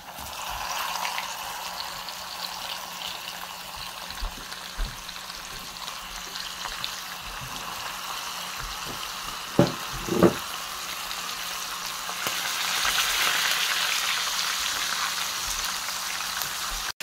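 Steady hot-oil sizzle of fish frying, a continuous crackling hiss with a few sharper pops midway and a slight swell toward the end.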